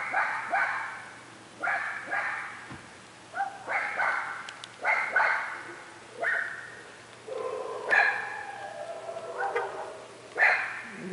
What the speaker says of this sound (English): The dogs are barking at the person who lives down the street that they honestly don't care for.